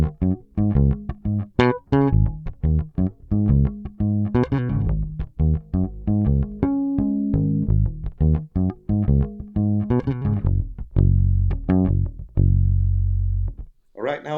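A bass guitar with its EQ set flat plays through a Darkglass Microtubes 900 amplifier, a busy run of punchy, distorted plucked notes with deep lows, ending on a sustained note that fades out.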